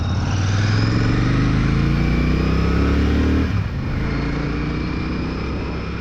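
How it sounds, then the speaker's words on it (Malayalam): Royal Enfield Classic 650 parallel twin engine thrums loud and close while riding, a steady low rumble holding for over three seconds before the throttle eases and it settles into a softer, even cruise. "ബൈക്കിനെ ഞാൻ അധികം വലിപ്പിക്കുന്നില്ല കേട്ടോ"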